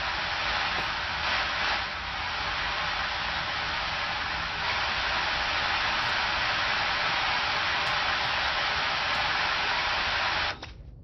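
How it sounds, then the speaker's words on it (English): Steady hissing white-noise static from electronics in the game Control fills a quiet hotel section, a flat, band-limited wash that holds level for about ten seconds before cutting off abruptly. "Am I just turning off electronics? Getting rid of the white noise, so to speak."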